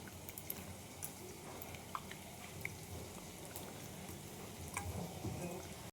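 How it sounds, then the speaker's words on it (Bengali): Onions and vegetables frying together in a pan for a thin chicken curry, a soft continuous sizzle with scattered crackles and light stirring scrapes, fairly quiet. "পেঁয়াজ সবজি সব একসাথে ভেজে নেব।"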